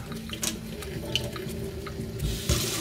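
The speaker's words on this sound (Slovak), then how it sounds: "Tak a batériu máme namontovanú, prívod vody je skontrolovaný, neostáva nič iné, ako ju pustiť." Water runs from a Schutte Vital touchless kitchen faucet into a sink, a soft steady splash with scattered drips and brief gurgles, close by, and a louder gush near the end.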